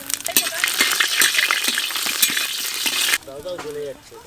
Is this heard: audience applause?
no